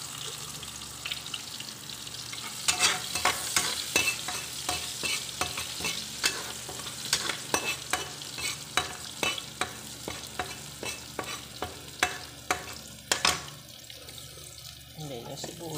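Garlic sautéing in a pan for sotanghon, a continuous sizzle punctuated by repeated sharp clanks of stirring against the pan, close and fairly loud.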